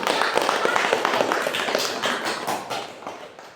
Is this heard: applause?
yes